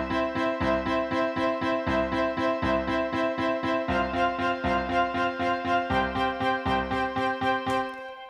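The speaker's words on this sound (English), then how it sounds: "take some MIDI regions that are quantized to the grid with the same velocities" Quantized MIDI playback with identical note velocities sounds rigid and computer-like, evenly repeating chords and notes on a strict grid at moderate volume, then fading out at the end.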